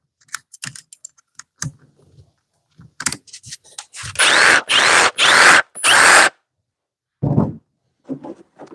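Clicks, snaps and short plastic-and-metal clatters sound up close while a blade is fitted to a one-hand reciprocating saw. Between them come several steady bursts of about a second each, all on their own with no talk.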